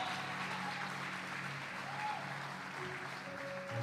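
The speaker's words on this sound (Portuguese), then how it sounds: "uma linda salva de palmas ao Senhor" A church congregation applauds during a worship service, a faint, distant, continuous patter of many hands with soft music tones running underneath.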